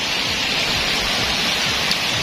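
Rain pours steadily outdoors, a dense, even hiss of drops striking surfaces, loud and continuous with no voices.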